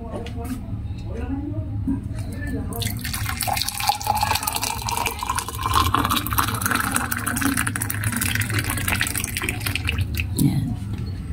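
Hot water from a kettle pours steadily into a drinking glass, a continuous liquid stream rising in pitch as the glass fills, with a voice talking over it.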